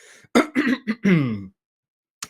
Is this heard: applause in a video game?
no